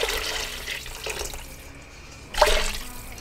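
Vegetable broth poured into a cooking pan, a steady liquid splash and gush running at moderate level, with a louder surge of pouring near the end.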